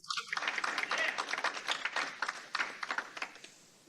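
Audience applause at a military family support survey release event, a steady patter of many hands clapping in a room, moderately faint and fading out toward the end.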